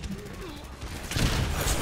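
Rapid gunfire in the Overwatch shooter game bursts out loud and close in a dense volley during the second half, after a stretch of game sounds and a voice.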